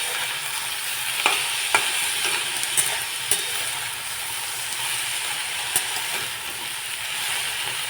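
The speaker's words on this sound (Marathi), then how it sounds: "शेंग आपली थोडीशी भाजायला लागलेली आहे" Hyacinth bean pods fry in hot oil in a home kitchen, giving a steady close sizzle with occasional sharp clinks and scrapes as they are stirred.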